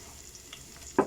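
Garlic sizzles in a frying pan for a Filipino chicken liver gisado, a soft steady fry topped by one sharp scrape of stirring near the end.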